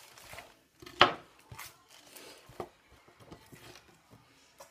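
A knife chops Napa cabbage on a board with a few close, soft knocks, one sharper thunk standing out among scattered quieter cuts and light rustling, no talk.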